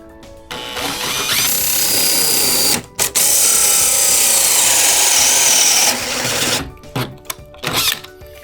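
A power saw cuts through a wood panel for a curved van ceiling, a loud steady whining buzz lasting several seconds with a short break between two cuts, then brief knocks and handling noises.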